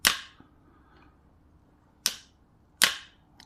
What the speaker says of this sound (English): So now this bail arm, you can just, it clips in so nicely. Nice strong spring when it comes back.